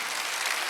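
Church congregation clapping together during a Korean Sunday worship service, a dense, steady burst of applause that fills the short moment with no talk over it.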